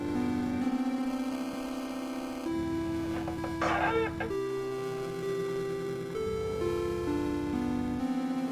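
Chase theme music for the Specimen 4 monster in Spooky's Jump Scare Mansion: loud, retro-styled looping music with steady sustained bass notes that shift every couple of seconds under a brighter melodic line, with a brief busy flurry midway.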